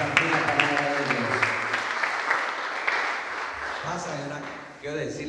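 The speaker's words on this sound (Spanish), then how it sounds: "Damos un fuerte aplauso a Jesucristo por Elda" Congregation applause in a church service at Iglesia El Shaddai Rosarito, moderate clapping mixed with voices and music that fades before a voice returns at the end.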